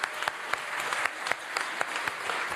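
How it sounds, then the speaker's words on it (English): An audience at a ribbon cutting ceremony for a holistic wellness center's opening day gives a moderate round of applause, steady and somewhat distant, with a few sharper claps standing out. "So one round of applause."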